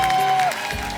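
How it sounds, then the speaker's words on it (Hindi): A studio audience at a comedy TV show bursts into brief applause, a short burst of clapping mixed with a sustained musical tone and crowd noise. "एक बार जोरदार तालियां हो जाए"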